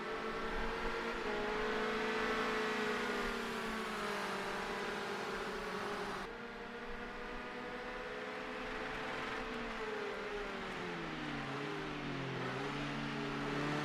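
Race car engines in a racing video game scream near their rev limit, a steady high-pitched drone holding for about fourteen seconds with pitch sweeps late on, fairly faint and without talk.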